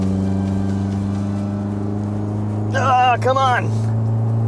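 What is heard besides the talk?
Mitsubishi Evo X at full throttle downshifting uphill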